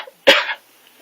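A single harsh cough bursts out, close and fairly loud, then fades into quiet.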